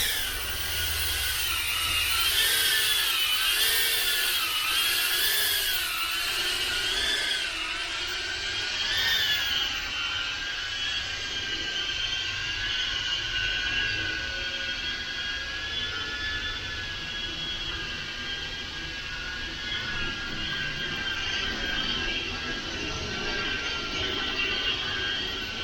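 Motors on an EMAX EZ Pilot FPV drone whine steadily at high throttle, loud and close, the pitch wavering up and down at first, then holding level.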